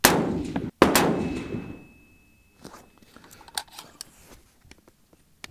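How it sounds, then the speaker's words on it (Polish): Two sharp reports from a pink MU-15 AR-15 rifle at a shooting range, the first at the start and the second a moment later, each loud and close with a ringing decay, followed by quieter clicks and handling noise. "Tradycyjnie 2 strzały nagrasz, żeby nie zanudzać."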